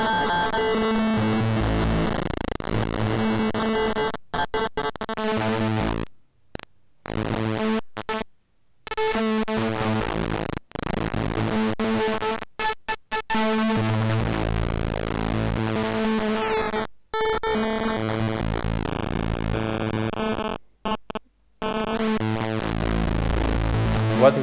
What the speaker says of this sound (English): What you're hearing is actually how your sound would, what your mix would sound like if it was a digital output,